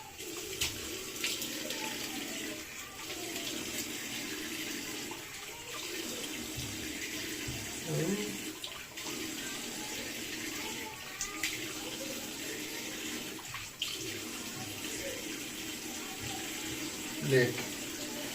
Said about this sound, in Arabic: راح نغسلها كلها بالمي وما راح تغير